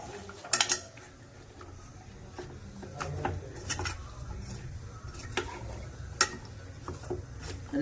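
Food stirred in a cooking pot, soft scraping and knocking of a utensil against the metal with a few sharper clinks, fairly quiet and close over a low background.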